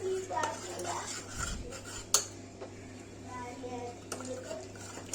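Masala fries in a pot while a metal spoon stirs and clinks against the sides, making scattered scraping and one sharp clang over a low background hum.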